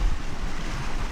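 Low, steady roar of waves washing over a sandy Baltic Sea beach on the Estonian coast, with wind buffeting the microphone throughout.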